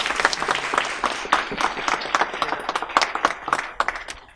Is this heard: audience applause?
yes